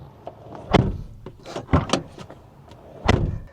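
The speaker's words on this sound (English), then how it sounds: "Closing the door, let's hear the sound again." A few solid thumps of a Toyota Land Cruiser 70 LX Wagon 2.8 turbo door shutting, three distinct closes with short gaps between them, nearby and fairly loud.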